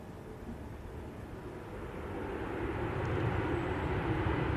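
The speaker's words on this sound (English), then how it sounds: "Just got a Ryanair. It's touching down." A Ryanair airliner touches down, a low distant rumble slowly building in loudness over a few seconds, heard alone without voices.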